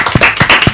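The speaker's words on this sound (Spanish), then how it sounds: "Un fuerte aplauso para ellos" A small audience applauds the Mexican metal band El Muro de Merlín after a live session, a few loud, close, distinct claps.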